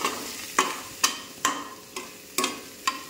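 A spoon stirs a cooking dish thickened with cornflour in a pan, six sharp scraping strokes at a steady rhythm close by, with a soft sizzle underneath and no voices.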